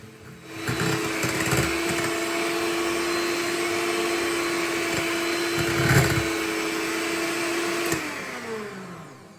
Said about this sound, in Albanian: Do t'i rrahim mirë vezët bashkë me sheqerin derisa sheqeri të shkrihet plotësisht